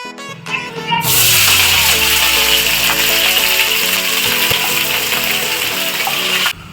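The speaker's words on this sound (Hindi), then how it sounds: "ये देखिए मैंने उसके ऊपर तेल लगा के अब मैं उसको भून रही हूँ थोड़ा" Oil-brushed eggplant roasting for baingan bharta gives a loud, steady sizzle that holds evenly from about the first second to near the end, with faint tonal sounds underneath.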